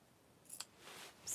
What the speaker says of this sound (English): love my LDH scissors, and so I like to use them for this. And I just have a couple more snips.